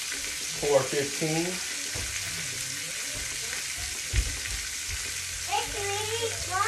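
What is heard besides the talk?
pork tenderloin searing in a pan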